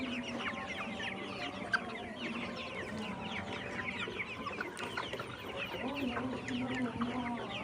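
A flock of 67-day-old layer pullet chickens clucks continuously and densely, many birds murmuring and calling at once at a steady, moderate level.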